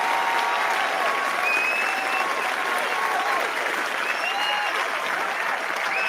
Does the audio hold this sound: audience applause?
yes